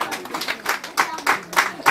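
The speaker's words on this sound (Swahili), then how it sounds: "Pigie makofi." Audience clapping at a Jumela Academy graduation ceremony: scattered, uneven hand claps from a modest crowd, rising and falling in small bursts over two seconds, fairly near and without speech.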